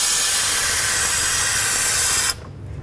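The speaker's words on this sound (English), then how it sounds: "One of the best ways to fill a cooling system is by using vacuum, so that's what I'm going to do." A vacuum tool pulls vacuum on the cooling system of a 2006-10 Dodge Charger after a radiator replacement, producing a loud, steady hiss up close that cuts off abruptly near the end.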